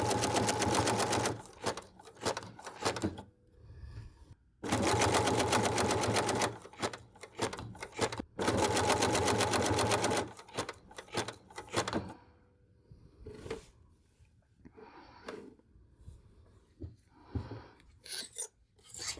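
A sewing machine stitches wool applique, running in loud steady bursts of rapid needle chatter with brief pauses between them, then shorter stop-start runs and softer handling noises toward the end, with no talking.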